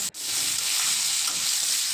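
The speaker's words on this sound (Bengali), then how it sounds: "সর্ষে তেল অ্যাড করে কালো জিরে ফোড়নে দিলাম" Nigella seeds hit hot mustard oil in a pan and set off a loud, close, continuous hissing sizzle that holds steady throughout, with no speech.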